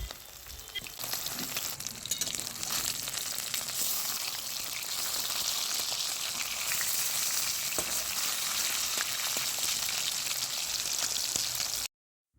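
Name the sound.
fish pieces frying in mustard oil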